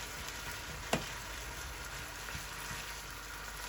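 Onion sautés in a frying pan with a soft, even sizzle, joined by a single sharp tap of a utensil early on and faint scrapes later.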